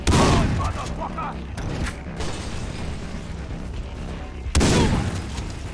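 Gunfire and enemies igniting in Far Cry 3: a loud burst of shots and impacts opens, dense mechanical rumble continues under game audio, and another sharp loud burst hits near the end.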